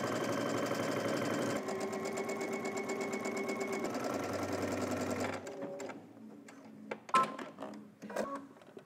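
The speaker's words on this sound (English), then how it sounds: "we're going to stitch along the outer edge of the pocket bag" A sewing machine stitches along the outer edge of a pocket bag seam, a fast steady mechanical whir and tick for about five seconds, then stopping and giving way to a few scattered clicks and handling sounds.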